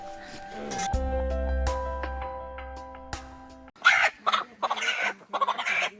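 A rooster clucks in several loud, choppy bursts after a sustained humming tone, with some voices faintly in the background, at a Tamang village puja in Okhaldhunga, Nepal.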